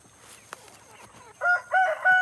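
Roosters crow in a loud, close, harmonic call that breaks into two or three rising bursts after a quieter stretch of faint clucks and chirps, with no talking.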